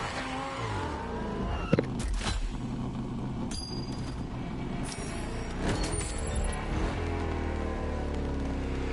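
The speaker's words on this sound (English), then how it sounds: "I had to pull out a freaking Alpha G1 car" An Alpha G1 car drives in The Crew Motorfest, its engine a steady loud drone throughout. A few sharp transient clicks and whooshes cut in, with no talking.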